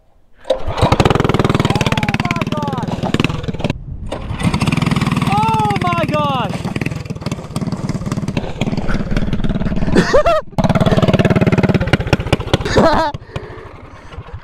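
A go-kart engine with a choke is started and then revved, giving rising and falling whines that cut out and restart. People talk over the engine throughout.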